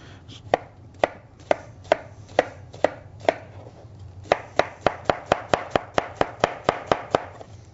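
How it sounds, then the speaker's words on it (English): Sharp knife chopping onions on a cutting board: about twenty crisp, close chops, first spaced evenly, then quickening into a fast, steady rhythm, with no voices. "make sure you have a good sharp knife, and that'll keep you from crying when you're cutting onions"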